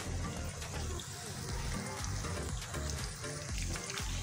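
Chicken leg pieces frying in hot oil, a steady close crackling sizzle running without pause.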